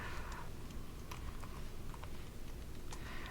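A password typed on a computer keyboard: faint, irregular key clicks in quick succession over a steady background hiss.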